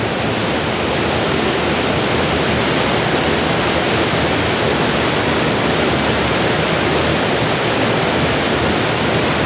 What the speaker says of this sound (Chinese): 这简直就是一个山间瀑布啊！